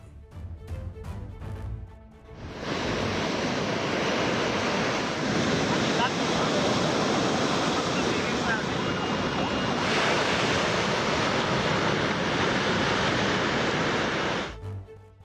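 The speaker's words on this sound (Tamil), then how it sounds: "மெரினாவில் பல அடி உயரம் வரை அலைகள் எழுகிறது" Large cyclone-driven waves crash at Marina beach in Chennai during Cyclone Montha, a loud, continuous roar of surf mixed with wind buffeting the microphone.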